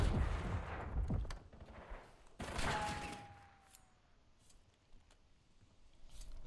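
Several pistol shots and bursts of gunfire ring out in a first-person shooter match during an esports game, sharp close cracks followed by a descending whizz and fainter scattered shots at low overall level.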